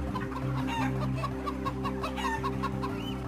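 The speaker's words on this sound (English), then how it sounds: "and hens in battery cages." Hens in battery cages cluck continuously in a dense chorus, a steady busy cackle over a constant low mechanical hum from the shed, with no talking.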